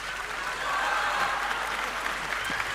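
An audience at a live comedy show broadcast from Lille breaks into applause, a steady, fairly close wash of clapping that holds evenly throughout without any talk.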